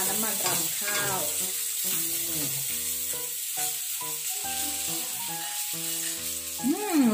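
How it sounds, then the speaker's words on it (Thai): Tofu deep-frying in rice bran oil gives a steady, close sizzling hiss that runs unbroken under melodic background music. "เต้าหู้ทอดของเราแบบไม่อมน้ำมันนะคะเพราะเราใช้น้ำมันสุขภาพนะคะน้ำมันรำข้าว"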